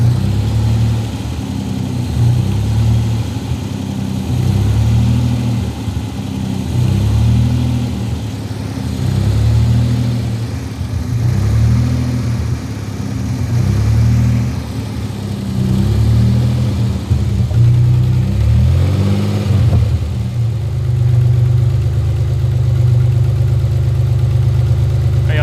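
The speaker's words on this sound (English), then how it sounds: "Now it's hunting again." A car engine idles unevenly, its speed rising and falling in a regular surging cycle, loud and close, with a brief throttle blip near the end and no talking.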